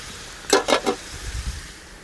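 Onions frying in a pan while being stirred: three quick scraping strokes close up, then a few softer low knocks, with no talking.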